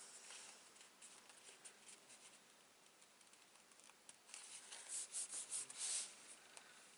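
Paper card is rubbed by hand during a gluing step, giving soft, dry brushing strokes that grow into a few firmer, rhythmic rubs near the end, quiet and close without speech.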